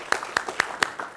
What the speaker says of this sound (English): give that young man another round of applause